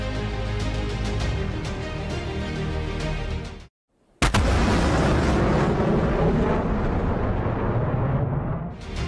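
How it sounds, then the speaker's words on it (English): A sonic boom from a supersonic aircraft: a sustained, loud, broadband roar that cuts out abruptly into brief silence, then returns as a sharp blast with heavy low-end rumble, like an explosion or thunderclap. "These sonic booms can be particularly loud and startling"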